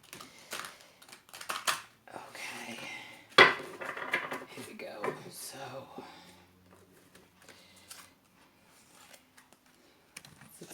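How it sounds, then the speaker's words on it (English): A tarot card deck is shuffled by hand in quick papery riffles and clattery bursts, close and fairly quiet, fading to sparse handling noises. "So I think just one more shuffle."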